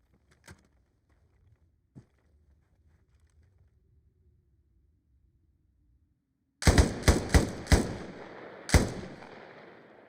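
Rapid gunfire bursts from the video game Arma Reforger, set on a US Civil War map: a few sharp, loud shots cracking close in quick succession after several seconds of near silence, with faint earlier thuds.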